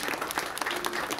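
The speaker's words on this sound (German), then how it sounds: "Großen Applaus" Brief burst of crowd applause after a show at a western theme park, scattered claps heard at moderate distance.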